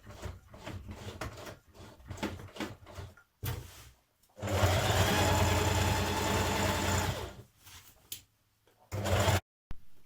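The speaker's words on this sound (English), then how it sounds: "top stitch close to the upper edge of the yoke, taking care when going over your belt loops" A sewing machine top stitches along the thick upper edge of a skirt yoke, passing over belt loops, in short stop-start bursts followed by a long steady run of stitching, close and fairly loud.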